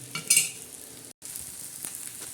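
Sabudana khichdi stirred in a pan, a short close burst of scraping and soft sizzle with one brief louder stroke and a momentary dropout, no voices.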